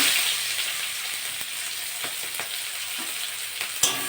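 Onions sizzle in a pan of hot oil with whole cumin seeds, a bright crackling hiss punctuated by scraping stirs and one sharper clank near the end.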